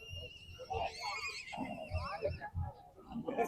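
Ponies whinny repeatedly at a pony show riding ground, high wavering neighs close by, with a person talking over them.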